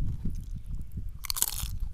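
Spicy sambalado-seasoned chips being bitten and chewed close to the mic, soft low chewing followed by a sharp, bright crunch near the end.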